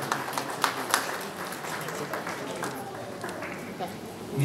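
Audience applause at a ceremony in Dărmănești honoring couples married fifty years: scattered, moderately loud clapping with a few sharp claps, mixed with people talking.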